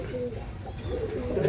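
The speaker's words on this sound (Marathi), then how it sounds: "कबूतर एकदम प्रेमळ कबूतर आहे ती." Cooing from a pet pigeon in a loft with several birds for sale, soft repeated low calls that build toward the end, close and fairly quiet with steady background rumble.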